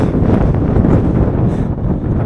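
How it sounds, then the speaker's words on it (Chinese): Gale-force wind sweeps across open grassland near a lake on a high-altitude cycling route, loud steady roaring and buffeting against the microphone with low rumbling gusts and no speech. "这个超级狂风根本骑不了啊！"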